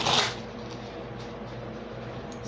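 A brief burst of tarot card shuffling at the start, then a steady low hum with soft rustling continuing underneath.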